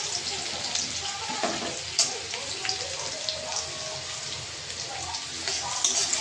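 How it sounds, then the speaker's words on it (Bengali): Garlic sizzles steadily in hot oil in a wok, with a continuous close crackle and occasional sharper pops. "তো রসুনটা একটু ভাজা ভাজা হোক বন্ধুরা।"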